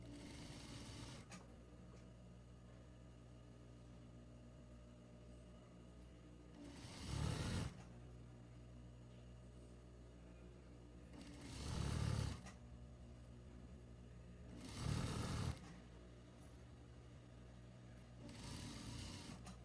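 A sewing machine hems silky wide-leg pants with a faint steady hum and four louder, brief stitching bursts spaced several seconds apart, close by and with no talk.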